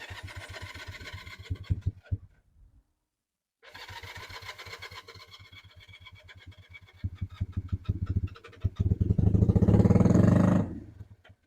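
A Honda CB175 motorcycle engine with a sticky throttle sputters briefly, cuts out, then restarts and idles with a steady close beat before a loud, sustained rev near the end.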